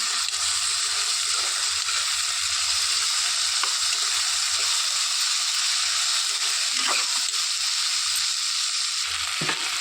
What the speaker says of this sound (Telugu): ఇందులోనికి గోరుచిక్కుడుకాయలు వేసేసుకొని వేయించుకోవాలి.